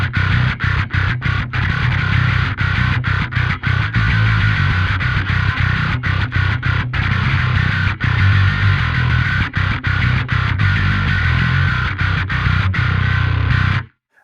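A $995 headless bass guitar played through heavy distortion, producing a loud, dense, continuous growl with rapid choppy note breaks across the whole passage before cutting off abruptly at the end.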